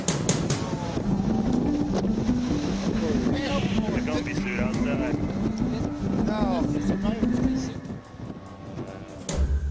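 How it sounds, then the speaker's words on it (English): Heavy wind and pounding 10 to 15-foot icy storm waves batter the Alaskan fishing vessel Alaskan Monarch, disabled with a damaged propulsion system; a loud, continuous roar is laced with rising and falling tonal wails. "helpless as it's battered by 10 to 15-foot icy waves."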